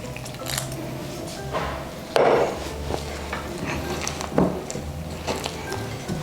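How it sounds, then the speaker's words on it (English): Hands mix soft flour-and-water dough for vegan Croatian soparnik in a bowl, making close, quiet squishing and dull pats with a couple of louder knocks against the bowl and no talking. "Once I add the rest of the water, I'm just gonna mix this with my hands."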